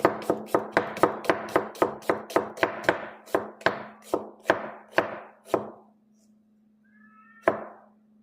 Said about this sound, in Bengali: পেঁয়াজটাকে আপনারা প্রথমে হাফ করে নেবেন, হাফ করার পরে এভাবে স্লাইস করবেন।